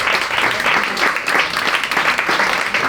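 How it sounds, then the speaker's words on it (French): Loud, continuous applause from a crowd, steady clapping filling the whole stretch without pause. "Vous pouvez l'applaudir."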